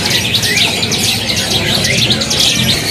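Black Gunung songbird singing at a bird market, a steady stream of bright, busy chirps and warbles that continues throughout over a dense, bustling background.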